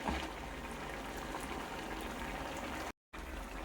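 Yogurt poured into a pan bubbles and sizzles steadily, a soft continuous gurgle with a brief dropout near the end.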